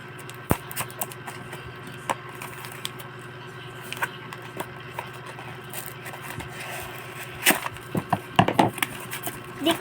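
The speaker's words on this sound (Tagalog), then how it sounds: "So let's unbox it." A small toy mini fridge is unboxed by hand, with quiet scraping and rustling of packaging broken by scattered sharp clicks and taps that grow busier toward the end.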